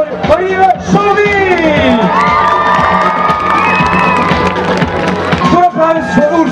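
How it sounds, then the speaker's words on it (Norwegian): A lively outdoor crowd at an Olympic flame arrival event cheers loudly, with high children's shouts and whoops over light clapping, sustained and close throughout. "Gi en stor applaus for Marie Sjovi!"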